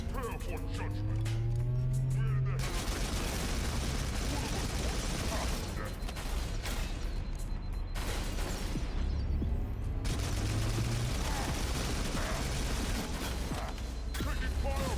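Weapon fire and combat noise in Halo: Campaign Evolved, a dense, continuous barrage of shots and mechanical effects with engine-like drones, loud throughout, with a voice speaking over parts of it.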